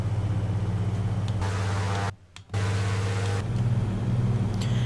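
A Grumman G-21 Goose seaplane engine in Flight Simulator X gives a steady, loud drone at high throttle, holding an even pitch, with a brief dip to near silence midway before the roar resumes.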